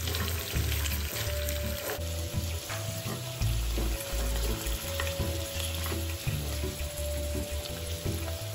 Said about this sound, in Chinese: 接着将排骨翻面，